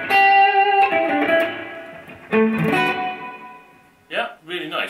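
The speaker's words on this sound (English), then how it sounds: "one of the nicest reverbs I've heard from a standard reverb in the amp" An electric guitar plays through the built-in reverb of a Bugera 333XL amp, sustained chords and notes ringing out with a lingering tail, followed briefly by a voice.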